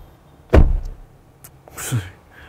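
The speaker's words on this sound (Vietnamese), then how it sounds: "cửa đóng đến đâu biết đến đây thực sự là một không gian xe rất yên tĩnh" The door of a 2018 Volvo XC90 Excellence closes with one solid, deep thud up close, followed by a softer latch click and faint mechanical sounds in a quiet setting.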